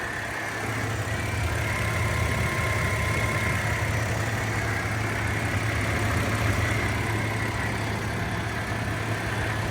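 A 1994 Toyota Land Cruiser 80 series with the 4.5 liter engine idles steadily, a constant low rumble with an even hum and no change in pitch throughout.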